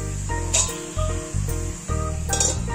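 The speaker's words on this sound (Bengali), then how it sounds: "আমি ঢাকাটা টেনে নিচ্ছি।" Metal pot lid clinks and scrapes as it is lifted and shifted over a simmering bottle gourd vegetable dish on a gas flame, a few bright close clanks over a steady hiss.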